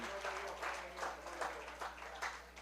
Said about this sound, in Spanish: por eso usted le aplaude en este momento